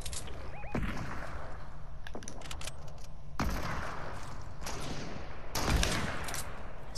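Gunfire in the Fortnite video game comes in several loud bursts of sharp rapid shots, each one cutting off abruptly, with a steady hum of game noise between the volleys.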